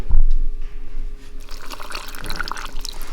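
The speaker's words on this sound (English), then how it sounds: "Put water in there" Water poured into a rock tumbler full of rocks, a close, loud splashing and gurgling fill that runs continuously.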